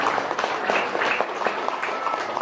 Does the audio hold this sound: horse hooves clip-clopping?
no